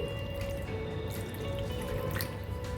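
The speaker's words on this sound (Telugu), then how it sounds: "ఒక కప్పు బెల్లంకు టూ కప్స్ వాటర్ వేసుకోవాలండి" Water pours steadily onto jaggery in a kadai on the stove, a continuous close splashing and trickling stream with no talk over it.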